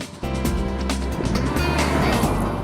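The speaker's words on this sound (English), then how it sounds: "if you put your foot down and push it hard, you will hear it rev quite loudly." A Honda Accord Hybrid engine revving loudly under hard acceleration, a sustained steady drone held at high revs with a constant heavy roar.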